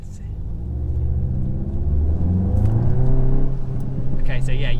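VW Golf GTI Clubsport Mk8 on an icy road, engine note rising as the throttle is tapped and released, a close rumbling rev that swells and holds before easing off, with a voice speaking briefly.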